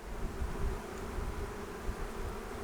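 Honey bees buzzing around an open hive frame during swarm-season hive inspection, a close, continuous droning hum with the rustle of handling beneath it.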